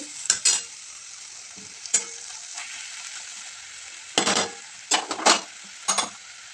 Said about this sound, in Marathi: तर आता व्यवस्थित परतून घ्यायचे तेलामध्ये